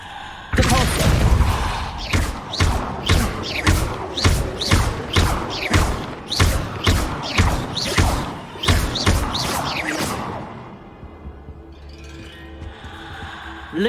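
Repeated push-spell blasts from Hogwarts Legacy, a rapid series of about fifteen loud, punchy thumps in steady rhythm over roughly ten seconds, then a quieter stretch with low ambience.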